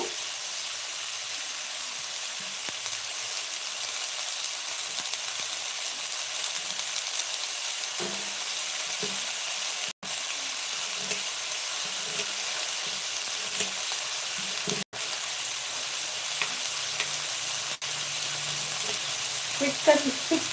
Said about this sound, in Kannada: ಹುಳಿ ಟೊಮೊಟೊ ಅಂದರೆ ನಾಟಿ ಟೊಮೊಟೊ ಅದನ್ನು ಆ್ಯಡ್ ಮಾಡ್ಕೊತೀನಿ ಸ್ವಲ್ಪ ಫ್ರೈ ಆದರೆ ಸಾಕಿದೆ